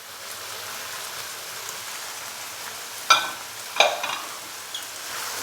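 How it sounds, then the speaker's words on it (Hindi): Mixed vegetables with capsicum stir-fried over a high flame in a pan, giving a steady soft sizzle with a few sharp clatters of stirring near the middle, no talking. "अच्छे से मिक्स करेंगे और इसको मज़ीद 2 मिनट के लिए भून लेंगे हाई फ्लेम पे"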